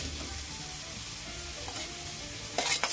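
Onion and green chilies fry in a good amount of hot oil for a white radish vegetable dish, a steady close sizzle with stirring scrapes that turns louder and brighter near the end.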